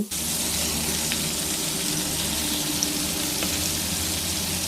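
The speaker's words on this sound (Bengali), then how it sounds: "কড়াই বসিয়ে তাতে পরিমাণ মতো সর্ষের তেল দিয়ে তেলটা গরম হয়ে গেলেই একে একে মাছগুলো দিয়ে দেব" Prawns fry in hot mustard oil in a wok, giving a steady, even sizzle with a constant hissing crackle that stays loud and unbroken throughout, without any talking.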